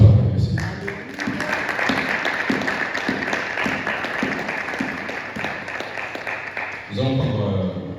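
A church congregation at a Sunday service claps steadily together for about seven seconds, a dense sustained round of applause that eases off near the end as a voice rises over it.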